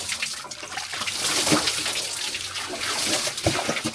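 Water streams and splashes steadily, a close continuous rush with a few louder spatters near the end.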